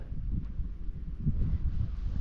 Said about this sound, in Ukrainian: Але й вітряно.